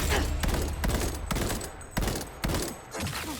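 Rifle fire in a shooter video game, with several sharp shots in an uneven burst over a constant, busy background of battle noise.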